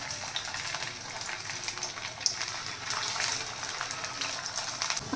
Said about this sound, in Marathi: इथे आपण शॅलो फ्रायच करणार आहोत, तुम्हाला हवं तर तुम्ही इथे डीप फ्राय केले तरी चालेल। आता इथे थोडं तेल तापलं ना, इथे आपण सावकाश सोडून घ्यायचे